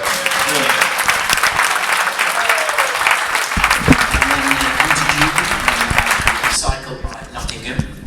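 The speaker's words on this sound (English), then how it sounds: "So I think that deserves a round of applause." Audience applause fills the room at a cycling club awards night, a dense steady clapping that continues for several seconds and thins near the end, with some voices and laughter mixed in.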